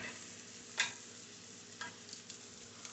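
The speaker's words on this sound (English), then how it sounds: "So I'm going to let these chops sear." Pork chops sear in a hot pan with a steady, quiet sizzle, broken by a few sharp pops and crackles, with no talking over it.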